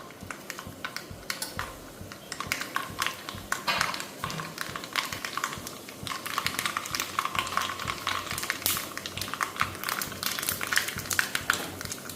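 Mustard seeds pop and crackle in hot coconut oil, a dense, continuous patter of sharp little bursts close by.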